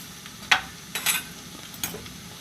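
Cumin, urad dal and fenugreek frying in oil for tomato pachadi, a low steady sizzle broken by three or four short crackling spatter bursts, close and without speech.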